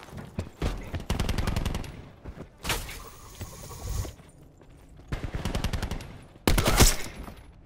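Bursts of automatic gunfire in Call of Duty Black Ops 4, several rapid volleys of a second or more separated by short gaps, loud and close, with sharp single shots between the bursts.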